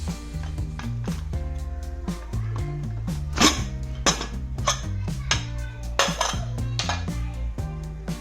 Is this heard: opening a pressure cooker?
yes